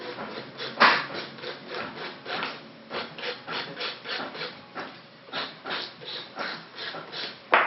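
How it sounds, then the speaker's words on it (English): Nail file rubbing back and forth on a long fingernail, a rhythmic series of scratchy rasping strokes at a steady pace, close and clear with no talking. "If you've got a long nail, support it with your finger, so when you're filing on it, you're not bouncing it up and down."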